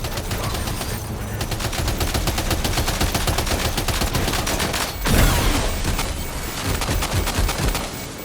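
Continuous automatic gunfire in the video game Death Stranding 2, loud and near, with rapid overlapping shots hammering on for about eight seconds and a heavier impact midway.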